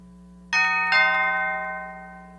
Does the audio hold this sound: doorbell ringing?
yes